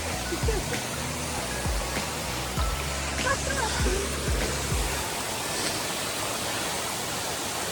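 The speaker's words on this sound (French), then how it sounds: "La première cascade, elle est déjà magnifique." First waterfall along a trekking trail, a steady broadband roar of rushing water that fills the scene without pause, with some low thumps early on.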